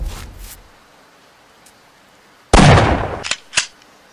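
Gunfire in a Bigfoot-hunting video game: a loud, noisy burst of shots with a couple of trailing cracks, after a faint earlier pop and near silence.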